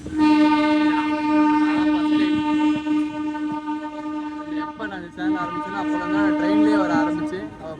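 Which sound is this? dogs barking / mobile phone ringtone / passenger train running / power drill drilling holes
passenger train running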